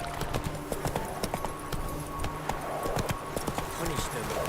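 A horse gallops in The Witcher 3 with a quick, rhythmic clip-clop of hooves under game music and a voice talking over it.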